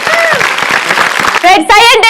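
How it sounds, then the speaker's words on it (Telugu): Studio audience on a Telugu TV game show clapping loudly in a dense burst, then cheering and whooping voices rise at the end over the applause. "గట్టిగా క్లాప్స్ వస్తారు అందరూ"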